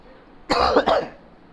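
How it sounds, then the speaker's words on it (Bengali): A single person's cough, a short double burst, close and fairly loud against a quiet room with no talking. "কাশি কে দেয়?"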